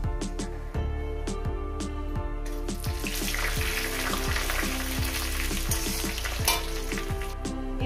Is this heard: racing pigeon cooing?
no